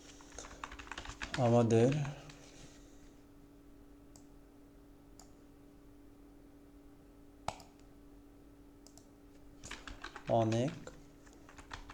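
Faint, sparse key clicks come from a computer keyboard being typed on at a quiet desk, with a few sharper taps spread through the clip. A person speaks briefly near the start and again near the end.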